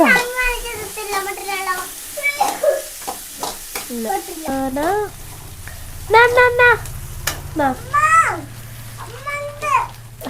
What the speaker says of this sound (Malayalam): വറക്കട്ടെ